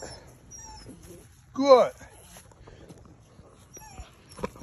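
A puppy gives a short rising whimper mid-clip, close and fairly loud, between quiet patches where a person speaks briefly.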